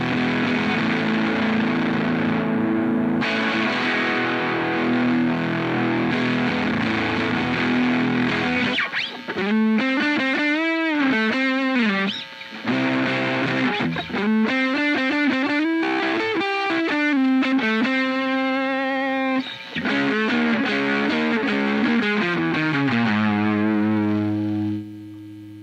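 Electric guitar through a Ground Control Tsukuyomi midrange booster pedal with the gain cranked, heavily distorted chords and then bending, sustained lead notes, loud and upfront with no talk.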